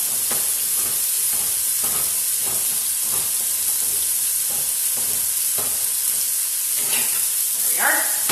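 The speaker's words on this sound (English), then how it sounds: "we are actually going to brown our tomato paste" Tomato paste browns in a pan for a spaghetti sauce, giving a steady, close sizzling hiss broken by regular soft scrapes and stirring strokes, with a brief brighter clatter near the end.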